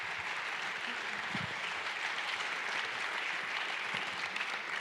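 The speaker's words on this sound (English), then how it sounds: "Let's all give Dr. Alec Gallimore a round of applause as he comes out." A lecture-hall audience claps steadily for a plasma engineering professor walking onstage, a dense, continuous wash of applause lasting throughout with no voices over it.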